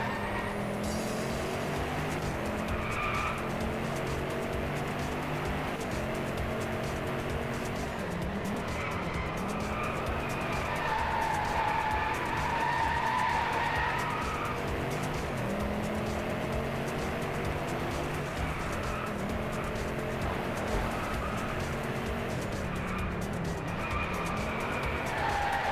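Hypercars racing in the video game Driveclub, a steady loud engine roar with shifting pitch and recurring tire squeal and skids throughout, no voices.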